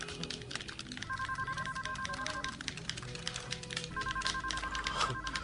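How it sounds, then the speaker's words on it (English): Telephone ringing in two bursts of a steady electronic tone, faint amid scattered clicking and background noise, no talk. "What is that ringing?"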